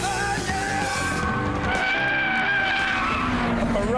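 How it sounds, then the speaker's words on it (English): Ferrari sports car driving hard on a race track, engine revving loudly and changing pitch through gear shifts, with tires squealing and a voice briefly heard over it. "A Ferrari for the day, and it's just got to go on the track."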